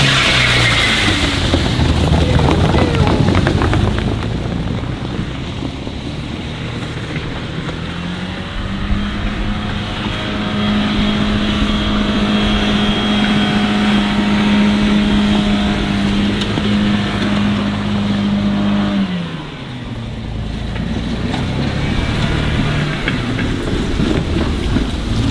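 Car driving on four flat tires with the rims spinning inside the tires in a burnout, a loud, close engine roar that climbs into a sustained high-revving drone, then drops off sharply before idling on.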